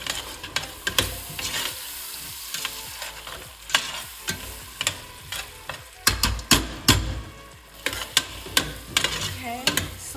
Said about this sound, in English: Okay, saute that a little bit. Saute, saute nicely.